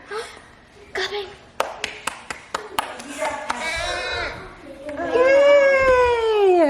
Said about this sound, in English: And oh, you're clapping, yay, well done.